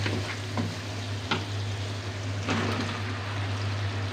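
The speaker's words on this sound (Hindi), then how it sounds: "अब हम इसमें बैंगन डालेंगे।" Eggplant sizzling as it fries in a spiced masala with ground coriander, a steady quiet crackle with a constant low hum beneath it and no talking.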